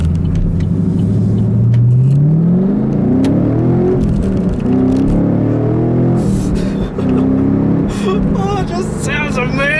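2014 Chevrolet Camaro Z/28 engine pulling hard under acceleration, a loud rising roar climbing through the revs with a brief dip at a gear change, heard from inside the car.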